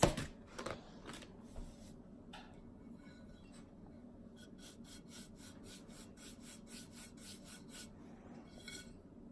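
Clear wax goes onto painted glass with soft, scratchy rubbing strokes that come in quick repeated bursts, quiet and close, with a few louder scrapes near the start.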